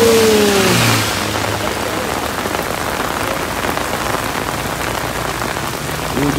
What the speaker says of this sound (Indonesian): Hujannya tambah deras.